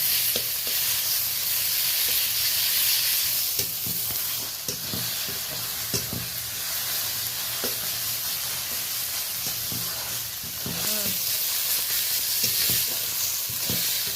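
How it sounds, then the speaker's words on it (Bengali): Spices and ginger paste frying in a pan for a pond-fish curry, stirred with steady sizzling and hiss throughout, punctuated by several close scraping strokes of the spoon. "দিয়ে আরো দুবার আমি এটা নেড়ে নেব"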